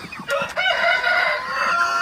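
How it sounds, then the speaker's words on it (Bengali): Broiler chickens in a poultry shed at early dawn cluck and call in overlapping bursts, with a sharp crow-like cry rising among them, fairly close and busy. "আমার ব্রয়লার মুরগিগুলো মাশাআল্লাহ খুবই ভালো আছে"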